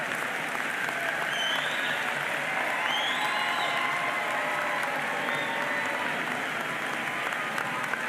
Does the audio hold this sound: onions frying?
no